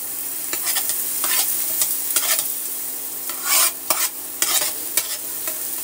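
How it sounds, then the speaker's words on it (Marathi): Onion sizzles loudly in a frying potato mixture while a spoon stirs and scrapes the pan in irregular bursts over a constant hiss of hot oil, close by and without voices. "हलकसं मिश्रण फ्राय झालंय, लगेच आपण यात टाकणार आहोत कांदा"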